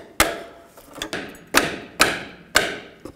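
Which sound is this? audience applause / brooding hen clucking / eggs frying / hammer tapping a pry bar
hammer tapping a pry bar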